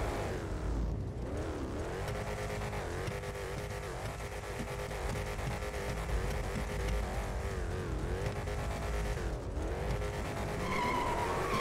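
A Mustang accelerates hard in a GTA 5 drag race, its engine roaring continuously and climbing in pitch through several gear shifts, with tire noise underneath, loud and close throughout.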